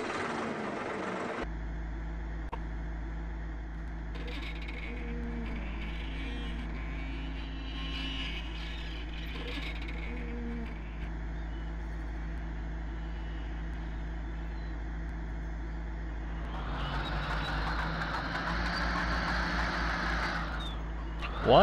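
An in-game tractor engine idling as it warms up in Farming Simulator 15, a steady low drone with faint tonal hums that grows louder and rougher near the end.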